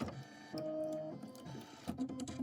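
An embroidery sewing machine stitches under-sewing for a satin stitch, a close mechanical whirring with rhythmic needle chatter, pausing briefly before resuming.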